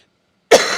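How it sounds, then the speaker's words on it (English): A single sharp cough bursts out close to the microphone after a moment of silence. "Sorry, don't mean to keep coughing on you."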